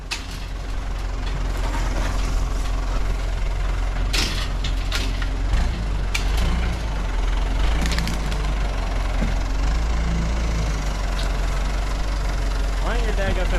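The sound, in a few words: backhoe engine idling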